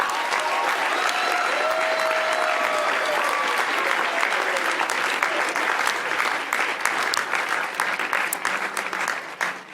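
Sustained audience applause with whoops and cheering fills a large room at a talk on gratitude, steady and dense throughout before thinning slightly near the end, with a few voices calling out within the crowd.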